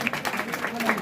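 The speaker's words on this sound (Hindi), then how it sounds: "जोरदार तालियां।" Audience at a student farewell celebration at a coaching class giving loud applause, a dense, continuous patter of many hands clapping with a voice heard faintly over it.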